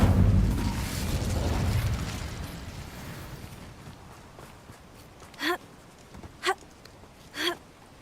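Three sharp bursts of the Incendio fire spell in Hogwarts Legacy, each a quick whooshing crackle, spaced about a second apart after a fading rumble.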